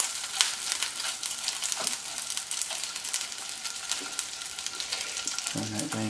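Fish liver frying in oil on a gas stove, a steady close sizzle and crackle with a scraping stir, and a brief voice near the end.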